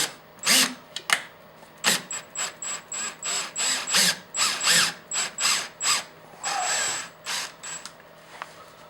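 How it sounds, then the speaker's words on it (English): A power drill whirs in a series of short bursts, starting and stopping repeatedly, close and fairly loud, pre-drilling screw holes into a carpeted bass boat deck. "I'll pre-drill my holes"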